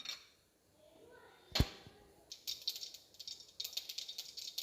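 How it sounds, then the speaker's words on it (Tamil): Mustard and cumin seeds spluttering in hot oil in a kadai, giving a run of sharp, crackling pops that thicken into a steady burst of spitting near the end, with one louder clack partway through. "இப்போ கடுகு நல்லா பொரிய ஆரம்பிச்சிச்சு."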